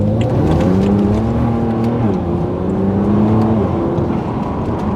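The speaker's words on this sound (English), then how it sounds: "Oh, the turbo noises are amazing." BMW Z4 sDrive35i roadster with a turbocharged engine accelerating hard, raspy exhaust rising in pitch through gear changes, loud and close and steady throughout with no talking.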